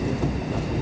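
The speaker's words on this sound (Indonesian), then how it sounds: "Makin ke barat, Emu kereta cepat makin ngebut." A high-speed electric multiple-unit passenger train runs on rails with a loud, steady low rumble close by.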